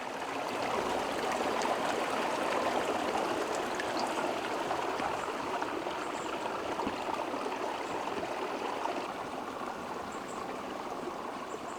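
A creek flows steadily outdoors, giving a continuous broadband rush and trickle of water that holds at an even level throughout with no talk over it.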